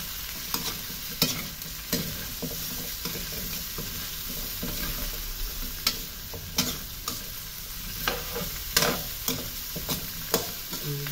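Seasoning being stirred into a frying dish: a constant sizzle broken by repeated scraping strokes of a utensil against the pan at an uneven pace, close and clear, with no talking.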